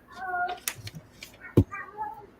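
A cat meows behind a glass window, a few short cries with harmonic pitch rising and falling between quiet gaps, fairly close, while a person also talks and mimics meowing.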